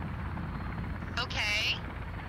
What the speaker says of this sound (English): I got helicopters